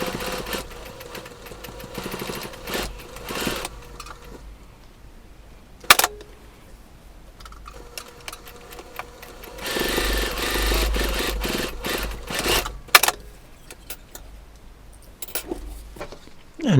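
A sewing machine stitches a denim and flannel wrist cuff in several bursts of rapid mechanical whirring, separated by pauses and punctuated by a few sharp clicks.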